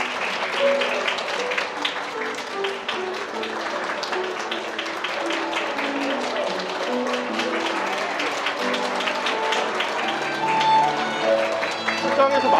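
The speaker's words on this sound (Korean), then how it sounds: "네, 큰 박수로 모시겠습니다." A crowd in a wedding hall applauds steadily as the groom's parents make their entrance, with dense continuous clapping and cheering voices mixed in throughout.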